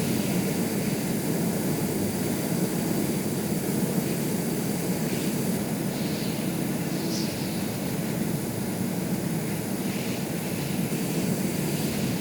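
A badly damaged Boeing 747 in the game Stormworks, its engines giving a continuous loud roar with a steady high whine, unbroken and close for the whole stretch, with no voices.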